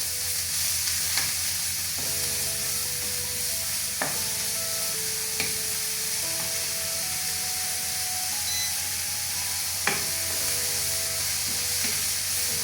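Ground beef frying with onions in a pan makes a continuous loud sizzle with occasional utensil knocks, while a steady tonal hum of background music runs underneath.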